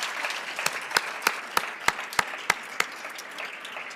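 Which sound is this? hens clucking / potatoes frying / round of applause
round of applause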